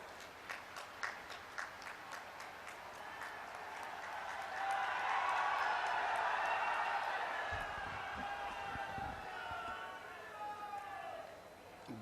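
Crowd applause for the chief minister at a foundation-stone ceremony for an AYUSH institution, building from scattered claps into a broad, sustained roar of clapping that tapers off toward the end.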